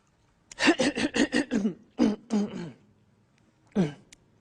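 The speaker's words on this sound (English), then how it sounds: "I'm clearing my throat." A person clears their throat in a rapid series of rough, guttural bursts, then a couple more separate harrumphs after short pauses.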